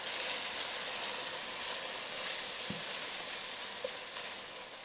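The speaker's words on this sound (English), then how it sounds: "So I'm going to use up my 1/2 cup of wine to deglaze these browning of the onions." Half a cup of wine deglazes browning onions in a pan for onion soup, giving a dense, steady sizzle that runs throughout, close and unbroken, with a faint click or two and no voices.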